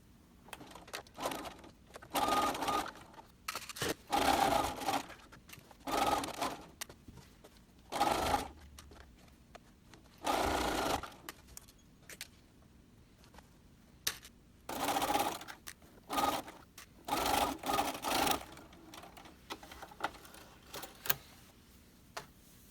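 A sewing machine with a walking foot stitches seams on a velvet kimono in repeated bursts, each run a fast, close mechanical chatter separated by quiet pauses.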